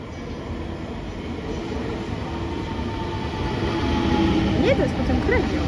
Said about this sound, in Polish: I wjeżdża skład z Chełmu, koleje lubelskie.